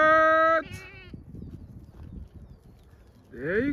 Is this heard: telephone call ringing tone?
no